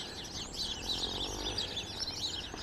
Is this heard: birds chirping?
yes